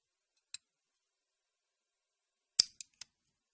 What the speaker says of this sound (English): we have these sets of, I think they're called Allen keys in English